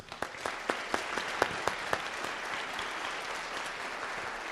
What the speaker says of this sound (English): So let us show a little bit of applause to you.